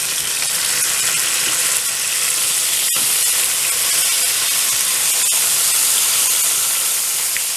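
A London broil roast sears in a hot pan, a loud, steady, close sizzle with bright hiss and crackle running unbroken throughout.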